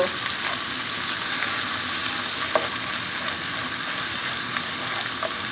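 Spice paste of garlic and cumin pastes with turmeric powder frying in hot oil in a pan for a tilapia dish, a steady loud sizzle and crackle throughout with faint clinks of stirring.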